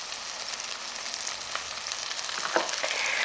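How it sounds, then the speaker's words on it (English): Mashed potato and cabbage fry in a pan for a vegan bubble and squeak, giving a constant close hiss and sizzle with a few faint pops and scrapes, and no talking. "cabbage squeaks around in the pan"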